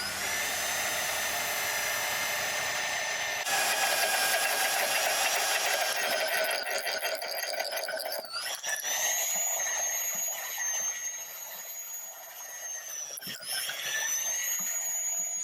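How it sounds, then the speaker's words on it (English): A high-pitched drill whines steadily, its pitch shifting as it bites and grinds through a broken steel bolt, continuing for a long stretch with brief changes in load. "use the Mac drill to drill it out and re-thread this thread"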